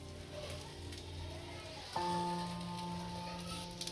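A pudla sandwich laid into hot oil in a pan, giving a sudden steady frying hiss that starts midway and holds, fairly close, with faint crackles over a low background hum.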